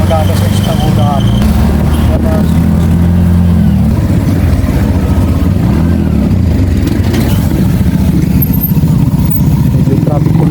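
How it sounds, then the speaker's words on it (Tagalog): Busy Philippine road beside a church near the route toward Batangas, cars and motorcycles passing with engine rumble and revving, continuous and close, with background voices. "Medyo traffic po ng kaunti."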